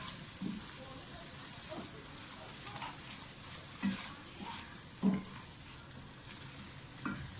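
Whole spices frying in a pan for a dhaba-style mixed vegetable dish, a faint continuous sizzle with a few soft stirring knocks, quiet and close, with some low talk in the background.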